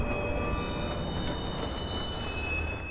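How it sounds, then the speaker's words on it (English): Train arriving at a station in the video game Watch Dogs, a loud, steady rumble of rolling rail wheels with faint metallic ringing tones layered on top, continuous and close throughout. "Northbound train arriving shortly."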